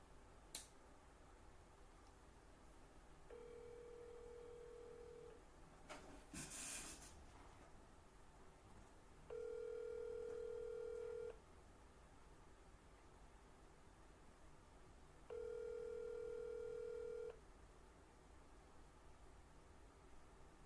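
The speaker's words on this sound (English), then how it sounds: "Let me see if she gonna answer the phone." A phone call ringing through a handset: three faint, evenly spaced ring tones, each about two seconds long and about six seconds apart, preceded by a click and a short rustle, over a quiet background hiss.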